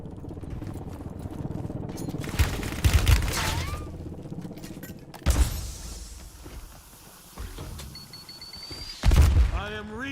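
Gunfire bursts in Black Ops 6 multiplayer, loud volleys around three and nine seconds and a sharp shot near five, with rattling mechanical clicks and game effects between them.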